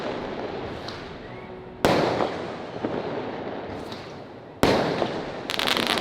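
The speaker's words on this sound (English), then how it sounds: "So we've got fireworks in here." Fireworks exploding at a Chinese New Year 2021 celebration: dense, continuous crackling with sharp loud bursts every few seconds, heard from close by with no voices.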